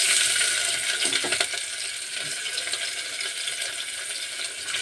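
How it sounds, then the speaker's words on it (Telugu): Chopped onions frying with cashews in hot oil in a pan, a steady close sizzle with a few stirring clinks and scrapes near the start. "ఈ జీడిపప్పులు కొంచెం ఎర్రబడంగానే ఉల్లిపాయలు, ఆనియన్స్ వేసుకున్నామండి."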